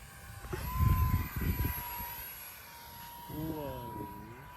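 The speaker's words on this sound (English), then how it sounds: "This plane's not that fast" A 3D printed Cetara EDF trainer RC plane flies with a faint, thin ducted-fan whine, its pitch shifting as it passes, mostly beneath people talking nearby.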